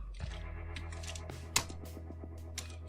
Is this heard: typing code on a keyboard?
yes